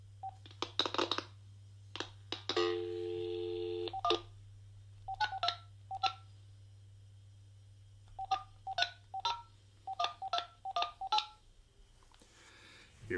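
Telephone keypad dialing tones beep in quick irregular bursts over a steady low line hum as a call is placed, close and clear with no talk.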